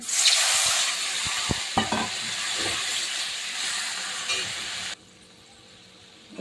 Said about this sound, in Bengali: দেখুন এবার ভেন্ডিতে আমি জল দিয়ে দিচ্ছি।